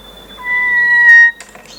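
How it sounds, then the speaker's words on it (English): A clear, tonal call of a large slate-grey bird, with sustained whistled notes that bend and rise, sounding much like a cat's meow, followed by a short burst of rustling noise. "Sometimes their calls even sound like a cat meowing"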